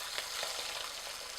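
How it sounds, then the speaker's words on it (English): Almond-crusted fish shallow-frying in oil sizzles steadily, a bright crackling hiss with small pops, close by and without talk. "So that's nice when you get a good sizzle like that."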